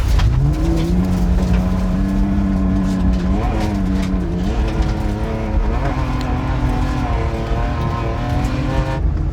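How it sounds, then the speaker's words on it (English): A rear-wheel-drive car with modest power and low grip revs hard on a dirt surface, the engine note rising and wavering as the tires slide and scrabble, loud and close throughout. "Rear-wheel drive car in the dirt, low grip, not that much power"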